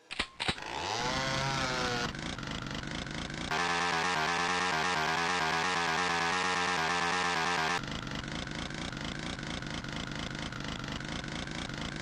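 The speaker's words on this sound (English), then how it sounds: "The Lego chainsaw from Doom." A Lego chainsaw from the video game Doom runs with a loud, continuous buzzing engine drone. It starts with a brief revving burst, then holds steady, changing pitch twice along the way.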